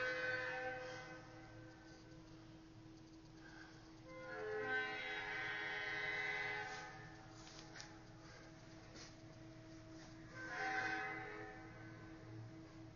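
Recorded 1942 diesel-era Pan American train played at a museum exhibit, faint tonal horn blasts rising and fading over a low rumble, quiet and distant.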